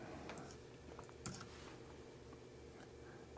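Computer keyboard typing in an office software session: a short run of quiet, scattered key clicks with one sharper tap, faint and close against low room hum.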